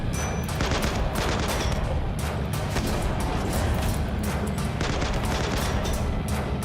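Heavy RimWorld firefight with a charge sniper rifle in the mix: dense, overlapping shots and booms crackle continuously at loud volume, with no talking over them.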